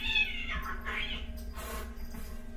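A cat meows over a steady low hum, a couple of drawn-out cries close by with no talking.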